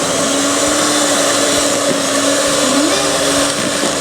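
An electric mixer beats granulated and packed brown sugar together in a bowl, a loud continuous motor whine with a steady hum, close up and unbroken for the whole few seconds.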